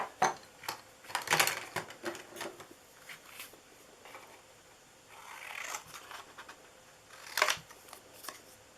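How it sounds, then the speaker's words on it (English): Scissors fussy-cut a stamped paper image, giving faint, close, irregular snips and light paper rustles in a quiet room. "I'm just going to fussy cut that out."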